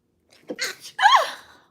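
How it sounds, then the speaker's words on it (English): A single close sneeze: a short sharp inhale followed by a forceful burst, alone with no talk around it. "I got to sneeze"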